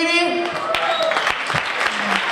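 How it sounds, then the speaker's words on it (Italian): An audience breaks into applause at the Gallo d'Oro event, a dense burst of clapping. A voice is heard over it at the start. "vorrei chiamare qui con un grande applauso Valentina Violini."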